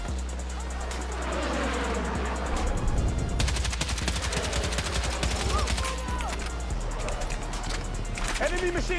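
Enemy machine gun fire in the Battlefield 6 video game, dense rapid bursts and overlapping shots over continuous battlefield noise, with a voice talking over it and sporadic distant gunfire throughout.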